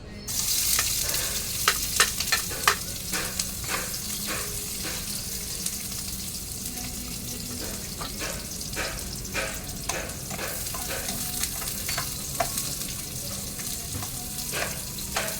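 Bitter gourd (ampalaya) and onion fry in a pan with a continuous sizzle, punctuated by frequent sharp clicks and scrapes of a ladle stirring against the metal.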